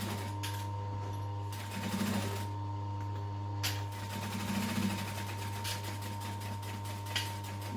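A sewing machine back stitches through the thick layers of a duffel bag, running in short, steady mechanical bursts that stop and start, over a constant low electrical hum.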